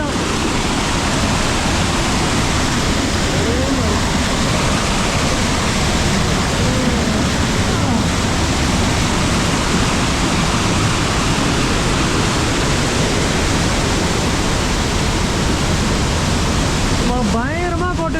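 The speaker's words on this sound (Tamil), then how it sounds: "மெயின் ஃபால்ஸில் என்ட்ரன்ஸ் ஆகிட்டேன்" The main waterfall at Hogenakkal roars as a loud, continuous wash of rushing water that fills the whole scene without letup.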